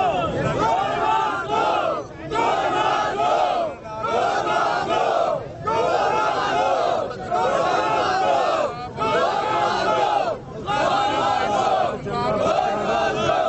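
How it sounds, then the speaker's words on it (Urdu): A large crowd at a rally chants slogans in loud, rhythmic bursts, repeated phrases separated by brief pauses, filling the whole scene with massed voices. "جہاں قتل ہوا، وہاں پر لوگوں نے بعد میں کیا نعرے لگائے وہ بھی سن لیں"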